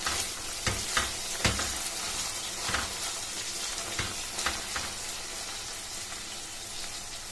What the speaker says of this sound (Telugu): ఇప్పుడు ఒకసారి వంకాయలు ఇలా బాగా కలిపి పెట్టుకోవాలి.